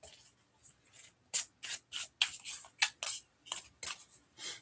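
A deck of cards being shuffled close by, with crisp riffling bursts in an uneven rhythm of about a dozen short, papery rasps separated by brief gaps.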